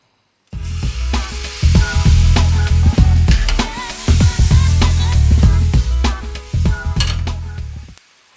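Cream stirred into butter caramel in a pan for a tarte Tatin makes a loud bubbling sizzle with repeated close scraping strokes of a utensil, starting abruptly and stopping near the end.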